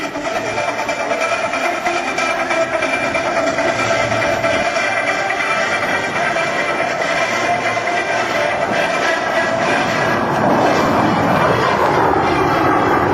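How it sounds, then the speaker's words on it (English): An A-10 Warthog jet flies an aerobatic rolling demonstration at the 2007 McGuire AFB open house, producing a loud, continuous engine roar that fills the whole stretch without letup, with no voices. "Now, from the right, Major Yost displaying the A-10's rolling maneuverability"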